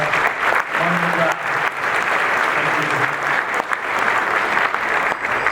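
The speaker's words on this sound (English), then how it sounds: "So everybody give them a round of applause." Applause at a Lambda Chi Alpha fraternity 100-year gala, a dense, sustained burst of clapping from a large room that holds steady for over five seconds, with faint voices mixed underneath.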